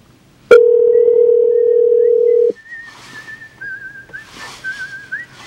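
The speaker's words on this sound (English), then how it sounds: "now you can see the telephone is calling me" A Chevrolet MyLink touch-screen infotainment system places a phone call, with a loud steady tone for about two seconds followed by faint, wavering ringing tones and quieter background sounds.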